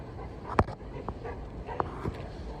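A golden retriever out on a street near a fountain gives several faint, short whimpers and yips, spaced apart over a constant outdoor background hiss.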